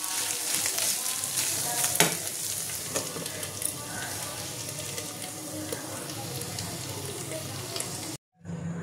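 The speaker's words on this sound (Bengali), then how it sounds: "তো এটা আমি ভালো করে কষিয়ে নেব।" Chicken mince filling frying in oil in a pan, a continuous close sizzle with scraping stirs and occasional knocks, then a short break near the end.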